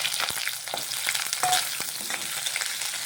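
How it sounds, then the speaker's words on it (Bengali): Potatoes frying in a pan, a dense continuous sizzle with occasional stirring scrapes and small pops, close up and fairly loud, no talking. "এখন আলুটা একটু ভাজা ভাজা করে নিচ্ছি।"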